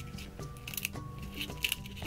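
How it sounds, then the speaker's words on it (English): Scissors snip slowly and carefully through a hollow eggshell, giving small crisp clicks and crunches spaced across a quiet, close background. "Carefully take your scissors, slowly and carefully cut the shell."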